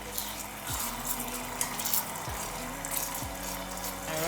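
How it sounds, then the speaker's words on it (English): Water is poured into a pot of rice during home cooking, a continuous rushing and splashing stream with a low gurgling undertone. "so I'll add water to it."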